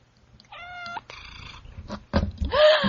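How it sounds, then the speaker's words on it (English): A house cat gives a few short, close meows in quick succession, with rustling and movement noises between the calls. "I hear cat noises."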